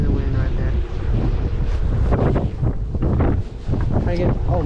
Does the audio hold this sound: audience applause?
no